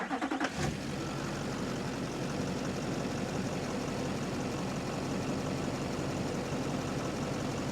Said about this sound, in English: do you want to go start the engine for me?